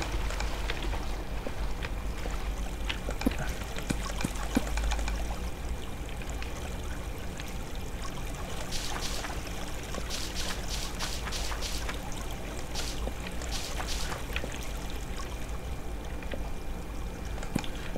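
Flowing water in the block-building game Minetest, a steady rushing stream and trickle running continuously at moderate loudness, with faint clicks and taps above it.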